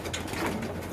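Racing pigeons coo at close range in a loft during a derby event, a soft steady murmur with faint mechanical rattling underneath and no talk.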